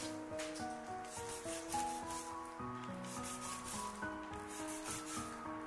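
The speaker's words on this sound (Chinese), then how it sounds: "再用刀斜刀45度给它打上一次花刀" A kitchen knife scoring a whole fish diagonally at a 45-degree angle across its skin for braising, making soft, repeated rubbing scrapes under steady background music.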